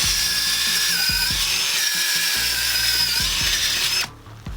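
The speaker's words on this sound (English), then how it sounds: "This is how fast you can drill a hole." A cordless drill whines steadily at close range for about four seconds while boring into soil, then cuts off abruptly.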